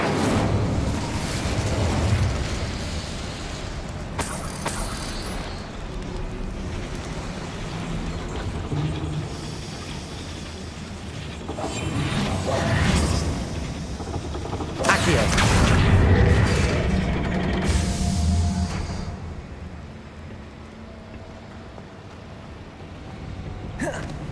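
An Incendio fire spell cast in Hogwarts Legacy, with bursts of whooshing flame and fiery eruptions over rumbling game sounds, several loud swells across the stretch, with a voice speaking at times.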